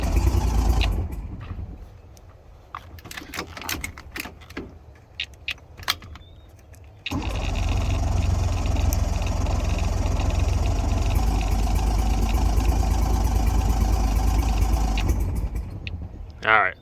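An outboard motor on a pontoon boat catches after choke and throttle work, then runs steadily and loudly with a rough, even drone for about ten seconds, after an earlier stretch of clatter and handling noise.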